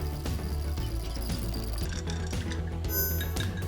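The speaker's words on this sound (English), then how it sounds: "dropping in a nice big chunk of clear ice. Give that a nice big stir. Fast stir for about 10-15 seconds" A cocktail stirred fast over one big chunk of clear ice gives a quick, steady run of close glassy clinks and scraping for a few seconds, with no talking.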